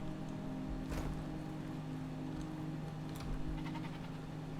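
A goat bleats in The Isle survival game, with a few faint, short calls heard at a distance over steady ambient wind and environment noise.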